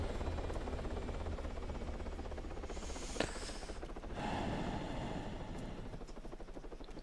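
A helicopter in ARMA 3 whirs with a steady, pulsing rotor drone throughout, broken by a sharp click partway through and a brief swell of louder noise.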